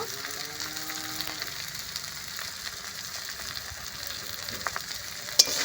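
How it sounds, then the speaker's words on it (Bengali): Spice paste for a fiery lote fish curry, with turmeric and chili powder, sizzles steadily in a pan as it is stirred and fried, a close, even hiss with a sharp clink near the end. "বেশ ভালো করে মশলাটা কষে নেব"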